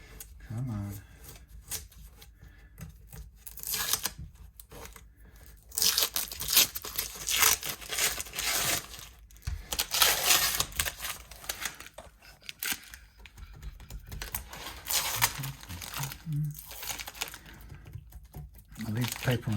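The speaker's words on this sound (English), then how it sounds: "I think we'd better get most of this surface paper off." Protective surface paper being peeled and torn off the body of a Squier Debut Telecaster guitar, bursts of crackling, ripping and crinkling that come and go over about twenty seconds, close up, with occasional quiet talking between them.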